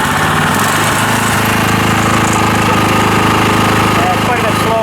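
A small engine on an old machine picked up secondhand idles roughly and runs slowly, making a loud, continuous, uneven mechanical chug that fills the whole clip without a break.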